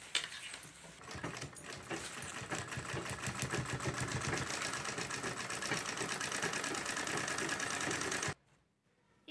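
A sewing machine stitches a lining piece onto a cloth bangle cover in a continuous, close, buzzing run of about eight seconds that stops abruptly near the end.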